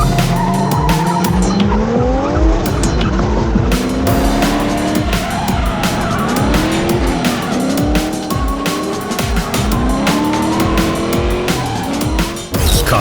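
A rear-wheel-drive car drifting at a Supadrift event, with loud sustained tire squeal, wavering engine revs and repeated sharp pops, close and continuous throughout.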